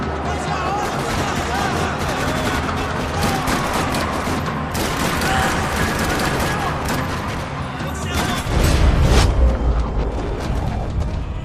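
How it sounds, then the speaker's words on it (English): Rapid bursts of gunfire in Max Payne 3 crackle continuously in a dense, loud mix in a parking lot, with a heavier booming surge near the end; the sound has a game-like feel. "Another parking lot rattling with gunfire."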